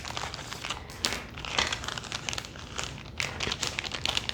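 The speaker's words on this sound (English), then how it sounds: "Comes in this nice Ziploc bag" Plastic Ziploc bag crinkling as it is handled, holding wax from an Artdot toolkit; steady close crackling rustle with sharper bursts of crumpling throughout, no voices.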